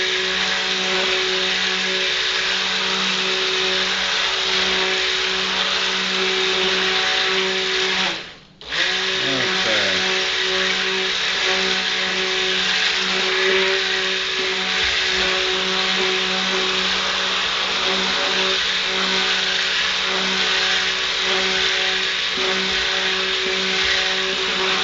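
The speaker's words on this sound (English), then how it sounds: "the stick blender" A stick blender whirs steadily while mixing a batch of homemade castile soap, a loud continuous motor drone that cuts out briefly for a moment and then starts up again, running alone without talk.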